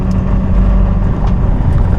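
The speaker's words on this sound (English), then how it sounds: "we're doing 45 miles an hour on a pretty crappy gravel road" A 2025 Land Rover Defender OCTA cruising at about 45 mph on a rough gravel road, heard from inside as a loud, steady low rumble of tires and engine with constant road noise and wind.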